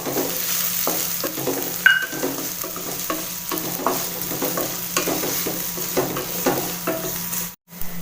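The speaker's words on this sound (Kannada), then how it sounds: "ಈರುಳ್ಳಿ ಎಲ್ಲ ಚೆನ್ನಾಗಿ ಫ್ರೈ ಆಗಿದೆ" Chopped onions and three dried red chillies fry in hot oil as a tempering, giving a steady close sizzle broken by repeated scraping stirs of a spoon in the pan.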